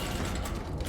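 In the video game Iron Nest, an artillery gun is armed with a short, close, clattering mechanical ratchet and gear sound, brief and fairly loud, with no voices.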